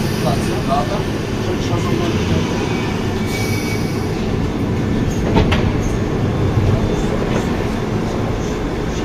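London Underground Piccadilly line train standing at South Kensington, with a steady rumble and hum of the carriage, a few faint squeals and clicks, and a voice speaking over the noise.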